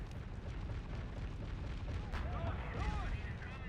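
Flak gun fire in Men of War: Assault Squad 2 comes as dull booming bursts under a dense, continuous battle din, with a voice talking over it.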